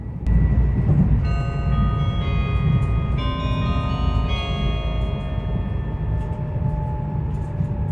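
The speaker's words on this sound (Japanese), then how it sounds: "列車は布袋駅を通過、布袋駅を通過したら地上に降りてきます。" A Meitetsu train rolls through Hotei Station in Japan, descending from an elevated section, with steady rumble and a ringing crossing-style bell chime sounding repeatedly, fading toward the end.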